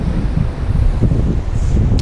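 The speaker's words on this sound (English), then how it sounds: "Yeah, it's windy." Wind buffets an outdoor microphone during work on a wrecked 2015 Peterbilt 389, a loud, rumbling low roar that surges and dips throughout with no talk.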